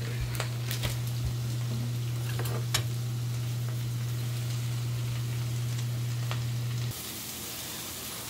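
Sorrel greens sizzle and fry in a pan, a continuous crackling hiss with scattered ticks and pops, close and fairly loud, easing slightly near the end.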